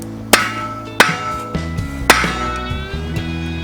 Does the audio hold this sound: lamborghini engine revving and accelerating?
no